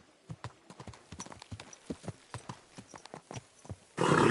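Horse hooves clip-clop in Kingdom Come: Deliverance II, a quiet, steady run of distinct hoofbeats at walking pace, ending with a sudden burst of louder noise.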